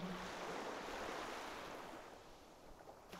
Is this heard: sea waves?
yes